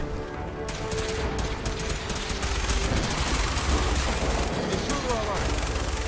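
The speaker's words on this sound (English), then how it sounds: "Guys, give me the minigun." A minigun fires in the video game Fallout 4, rattling out a dense, continuous stream of rapid shots with heavy low booms while voices talk over it.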